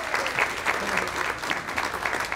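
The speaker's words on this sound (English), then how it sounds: "we want to give her a big round of applause for all her hard work." An audience claps steadily for an honoree at a youth award ceremony, a dense, even round of applause with no voices over it.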